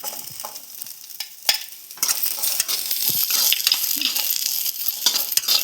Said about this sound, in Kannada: ಕಟ್ ಮಾಡಿದಂಥ ಉಳ್ಳಾಗಡ್ಡಿ ಹಾಕ್ತಾಯಿದ್ದೀನಿ